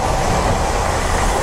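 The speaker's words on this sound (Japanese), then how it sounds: "今向かい側からも次の電車がやってきたんですけれども" A Nishitetsu Chikutetsu electric train rumbles loudly and continuously as it approaches, a dense roar of wheels and rails with no pauses.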